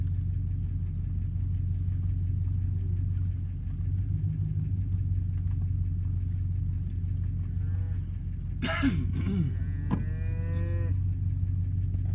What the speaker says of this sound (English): Gotta call your cows on the road.